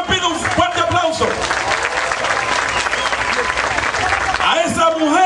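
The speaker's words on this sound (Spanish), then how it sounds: "licenciado Juan de los Santos, para la cual pido un fuerte aplauso." Loud crowd applause at a political party rally in Santo Domingo Este, dense clapping with cheering voices mixed in, sustained for several seconds close and full.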